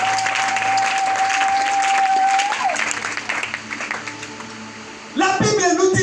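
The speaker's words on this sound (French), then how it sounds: "Applaudissons le Seigneur." A church congregation breaks into applause during a Sunday service, with a steady roar of clapping that continues while a voice speaks over it and music tones sound.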